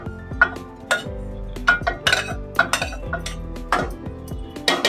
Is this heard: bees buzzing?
no